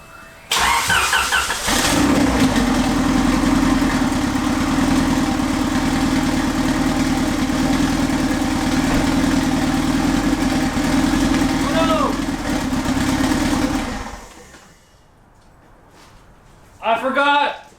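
A triple-turbo Honda engine with all three turbos hooked up cranks, fires and runs loud and steady for about twelve seconds with a deep droning rumble, then shuts off, leaving a quiet pause before a brief burst of noise.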